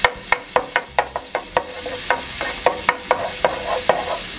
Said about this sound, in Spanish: Vamos a mezclar, a sacarle el sabor